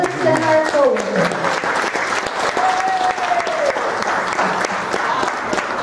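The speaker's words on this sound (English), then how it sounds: "Can we give a little applause to our actors for today" Audience applause for actors, residents and co-workers after a performance, sustained, loud and even clapping from a crowd with voices and cheers mixed in throughout.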